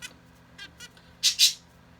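Zebra finches, newly bought pet birds, make a few short nasal calls: faint chirps first, then two louder squawks close together near the end, with quiet room sound between.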